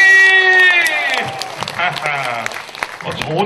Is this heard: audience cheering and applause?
yes